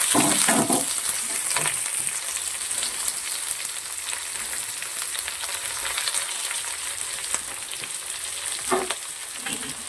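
Onion and curry leaves frying in oil: steady sizzle with occasional stirring scrapes and louder spitting bursts, close and continuous with no voices.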